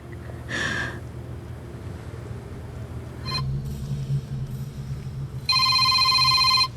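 A telephone rings in short electronic bursts, first faint and brief, then a loud, clear ring near the end over a low background rumble.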